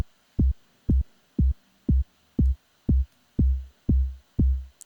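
Deep synthesizer note repeated about nine times at a steady pulse, each hit cut off abruptly by a 5 millisecond release, the notes gradually lengthening, close and loud with no talk.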